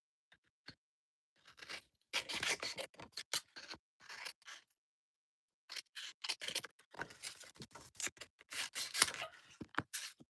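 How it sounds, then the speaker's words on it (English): Scissors snipping through card stock for a fold-out cross card, two bursts of rapid close cuts with brief pauses between, crisp and quiet with no talking. "I gotta cut it."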